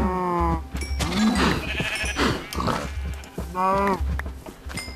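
Minecraft sheep bleat loudly twice, one cry at the start and another near the end, with someone talking in between over soft game sounds.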